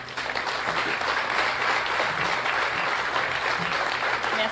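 A crowd at a political candidate's press event claps steadily after an answer, a thick, continuous roar of many hands with no letup, fairly loud and close.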